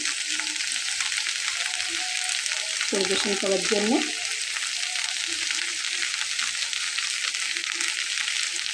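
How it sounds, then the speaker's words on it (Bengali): Okra with poppy seeds frying in a pan in a Bengali home kitchen, giving a loud continuous hiss and sizzle throughout, with a brief spoken phrase partway through. "তারপরে এটাকে আমি আরও 10 মিনিটের মতো জাল করে নেব, আরও একটু ভাজা করব"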